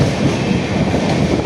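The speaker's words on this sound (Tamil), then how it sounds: "இப்போ நம்ம செங்கல்பட்டு ரயில் நிலையத்துக்குள் நுழைஞ்சிட்டோம்." Amrit Bharat Express train rolling into Chengalpattu railway station, heard from on board as a loud, continuous rumble of wheels and carriage noise with no talking.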